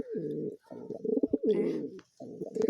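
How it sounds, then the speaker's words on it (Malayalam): A pigeon coos in several low, throaty bursts with short pauses between, close and clear against a quiet background. "ഡ്രൈവർ പ്രാവ് ഇതാണ് കേട്ടോ"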